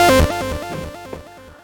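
An FM synth lead patch from Sytrus, unfiltered with effects added, plays a short run of bright, buzzy, harmonically dense notes in a stepping pattern that fades slightly as it goes, with no voices.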